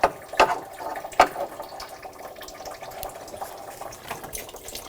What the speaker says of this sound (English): Just let it drain just like that.